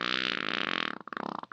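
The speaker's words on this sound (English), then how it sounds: "Chris lets out a massive fart that scares Herbert away like holy water." Animated cartoon fart effect, a long loud buzzing blast that turns into short sputtering pops at the end, heard alone with no talk.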